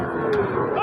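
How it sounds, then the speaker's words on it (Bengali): A cow lets out a short, low moo nearby at a cattle market, with a busy crowd murmuring in the background. "এটা কোনো গৃহস্থের গরু যে লিখে রাখছে রাজা"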